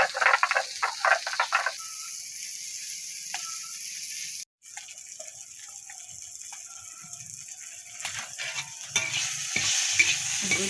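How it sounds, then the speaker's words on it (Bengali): Pointed gourd fries in oil with cumin and ginger, with an intermittent crackle and bursts of sizzling broken by quieter stretches and a brief dropout, heard alone and fairly close. "পটলগুলা খুব ভালো করে ভাজতে নিব"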